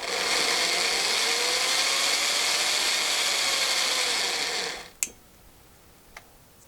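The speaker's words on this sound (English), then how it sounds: "So I'm going to pull, put tension on the drill, and I'm going to spin" A drill spins a length of resistance wire held under tension, a steady, loud motor whine that holds for several seconds before cutting off, followed by a sharp click and a fainter tick.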